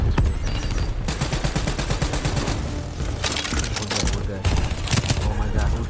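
Dense gunfire in Call of Duty Black Ops 3 campaign, a steady rattle of rapid shots and cracks with a few heavier bursts, loud and continuous throughout, with a voice briefly heard over the battle.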